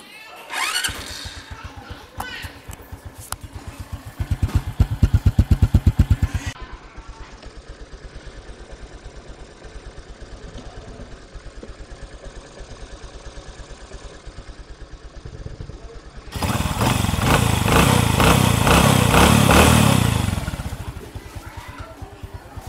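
A small engine runs at a steady clattering idle, then is revved up twice into loud sustained roaring bursts before dropping back, heard close up.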